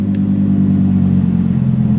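Ferrari sports car exhaust in Sport driving mode, a steady, loud, deep idling rumble with a constant low drone throughout, close by and unaccompanied by speech.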